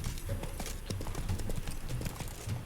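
Horse hooves gallop in The Witcher 3 during a tournament race, a fast, steady clip-clop rhythm up close over game ambience.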